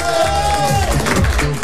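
An audience applauds and cheers steadily at a local TV game-show taping in Dambelin after a 52–28 match, a dense, continuous crowd roar with voices mixed in throughout.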